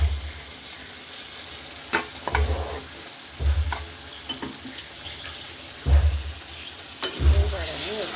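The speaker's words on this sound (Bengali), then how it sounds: "ডাল আর চর্বি একসাথে কষিয়ে নেব।" Chana dal and beef fat frying together in a pan, a constant sizzle under repeated heavy stirring strokes that thump and scrape every second or so, close and fairly loud.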